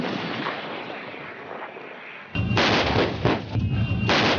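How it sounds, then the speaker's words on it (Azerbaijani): Artillery volleys and shell explosions with smoke on a battlefield: a sustained rumbling roar, then a sudden louder burst of heavy booming blasts that continue in overlapping waves. "Qulaq batırıcı yaylım atəşləri, tüstü dumanla müşayiət olunan mərmi partlayışları."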